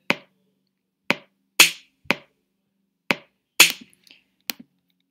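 Electronic drum kit in an online Song Maker tool: a sparse pattern of short, sharp percussive clicks and snaps at uneven intervals, crisp and close, with brief silence between hits.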